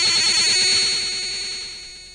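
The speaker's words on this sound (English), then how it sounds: "If you listen to a computer tape, you'll hear something like this." Commodore 64 data tape playing through a cassette deck gives a loud, harsh stream of high-pitched tones and warbling buzz, steady at first and then slowly fading over about two seconds.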